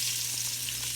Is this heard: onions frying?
yes